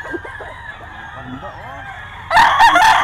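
A young gamecock bull stag lets out one short, loud crow near the end, after a stretch of faint background noise and murmuring.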